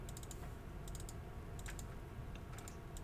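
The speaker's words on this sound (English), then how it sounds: "And I'm going to type in every single relationship that this has." Quiet computer keyboard typing while entering database table relationships, a steady scatter of light key clicks in faint irregular bursts over low background hum.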